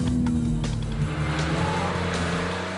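A BMW 3 Series Compact tuned by Hartge gives a loud, close engine drone with a deep steady rumble that eases slightly toward the end.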